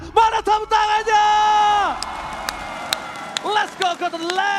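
Crowd at the MPL Arena, a Mobile Legends esports match venue, cheers and claps loudly under an excited commentator's voice, with whoops swelling and then fading into scattered shouts.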